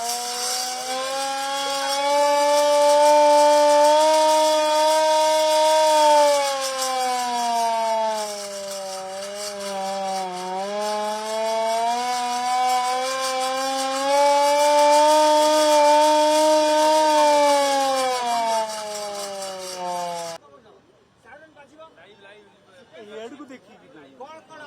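A civil defense air raid siren warning of enemy attack wails loudly for about twenty seconds, its tone slowly rising and falling, then cuts off, leaving faint background noise.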